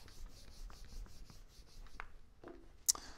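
Quiet writing on a board, a run of soft, steady rubbing strokes that ends with a few light taps and a sharp click of the marker or chalk.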